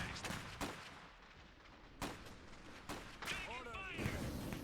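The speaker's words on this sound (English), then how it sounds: "More artillery. Who needs regular mechs when you've just got our mortars" Mortar artillery in the Iron Harvest strategy game goes off in several distant thuds and booms at irregular intervals, layered with a busy battle soundscape and mechanical whines as a voice talks throughout.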